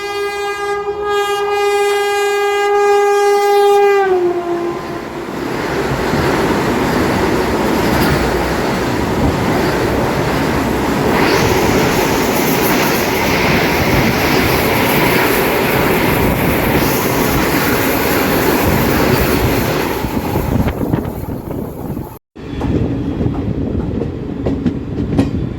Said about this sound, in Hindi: यहाँ से क्रॉसिंग ओवरटेक करने आ रही है नई दिल्ली से वाराणसी जाने वाली वंदे भारत एक्सप्रेस